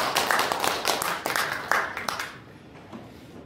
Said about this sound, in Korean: 좀 박수를 좀 한번 쳐줘봐요